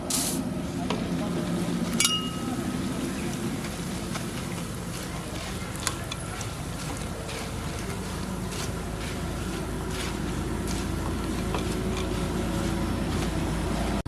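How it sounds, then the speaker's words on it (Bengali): Flattened rice (chira) frying in hot oil for homemade chanachur, a steady close sizzle and hiss with occasional stirring clinks, continuous throughout with no talk. "চিড়েগুলো ভেজে নেব"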